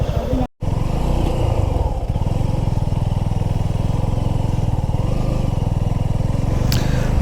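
A motorcycle rides along a road near the Kalyani Expressway in Kolkata, its engine droning loudly and steadily up close with a pulsing rhythm and a brief dropout at the start.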